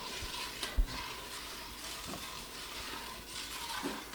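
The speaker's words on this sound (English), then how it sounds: "30 seconds to a minute to stir it up." Stirring a solution in water to dissolve it, a soft swirling and scraping texture with a couple of light knocks, close and quiet with no talking.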